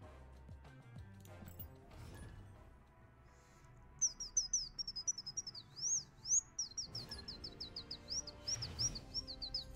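A person imitates bird chirping with a quick series of thin, high whistled tweets in rapid bursts, starting a few seconds in and continuing to the end, fairly faint over quiet room noise and light clatter.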